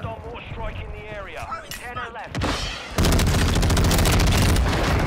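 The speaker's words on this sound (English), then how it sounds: "Oh, that's a mortar." Mortar explosions rain down in a Warzone match, starting with a single sharp blast after a voice speaks, then giving way to a loud, sustained barrage of rumbling detonations.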